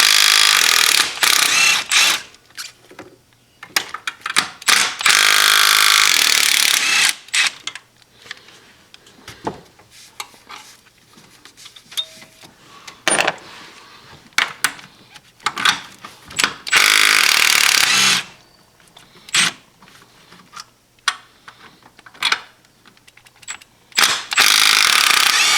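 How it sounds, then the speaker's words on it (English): Ratchet with a 16mm socket working engine mount bolts on a 2010 Lincoln MKT, with loud bursts of rapid clicking separated by pauses, close and alone with no talking. "I grabbed the 16mm socket."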